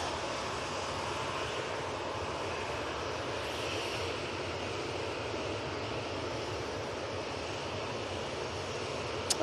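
A Boeing 787-8 Dreamliner climbing away from Manchester Airport bound for Malaga gives a steady, moderately distant jet roar that stays even and unbroken for several seconds, with no one talking.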